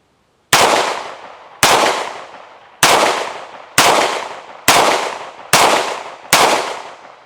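A Tisas 1911A1 US Army pistol fires Federal 230-grain defensive ammunition: seven loud, close gunshots at a steady pace of roughly one a second, each ringing out briefly before the next.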